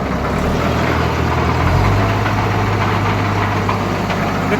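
A tractor engine runs hard at speed, a dense, steady low rumble close by, with a slight rise in pitch partway through and no talk over it.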